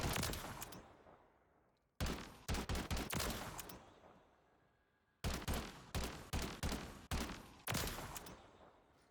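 Bal 27 rifle fire on a firing range in Call of Duty MW3: loud, close bursts of rapid automatic shots in two clusters, each decaying into a quiet echoing tail.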